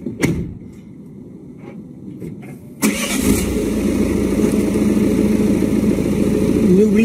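A car engine cranks and catches, a short burst of starter noise followed by a loud, steady idle that continues close by without any voices.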